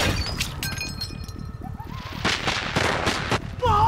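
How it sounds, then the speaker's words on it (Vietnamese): Gunshots ring out as bandits raid a merchant gathering, sharp cracks and bursts in a rapid irregular series over clattering background noise, fairly close and loud. "Nguy rồi, ai bắn súng?"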